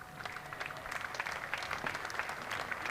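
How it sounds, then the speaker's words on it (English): Scattered applause from a section of the crowd at a Lancashire v Glamorgan County Championship cricket match, steady patter of clapping over three seconds, moderately distant and fairly soft. "Earning a little bit more applause from a section of the crowd"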